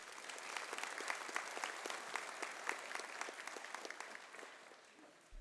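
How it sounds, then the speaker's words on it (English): Sustained applause from students and staff filling a high school honor awards assembly, dense steady clapping that carries on for several seconds before tapering off near the end. "let's give our contributors a round of applause"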